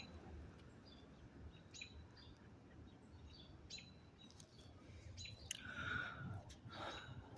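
Birds in a park chirping in short, scattered tweets and calls, faint and somewhat distant over a quiet outdoor background.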